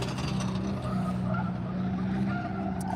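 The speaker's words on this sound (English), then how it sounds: "That's drifting, folks." A car drifts on the Minami Course at an Autumn Matsuri drift event, its engine roaring continuously and close while the tires squeal and skid across the whole moment.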